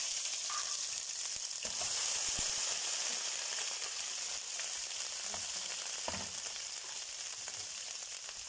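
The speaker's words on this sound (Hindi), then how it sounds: "हमारी भिंडी जो बिल्कुल अच्छी तरह से फ्राई हो गई है" Okra frying in a pan for achari bhindi, a steady bright crackling sizzle that runs unbroken and close, with a few soft clicks of stirring scattered through it.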